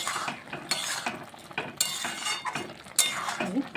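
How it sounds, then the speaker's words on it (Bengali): Butter being stirred into a lentil tarka in a pan, the spoon scraping and clinking in a quick, uneven rhythm of close, moderately loud strokes with no talking. "ভালো করে বাটারটাকে মিশিয়ে নিচ্ছি।"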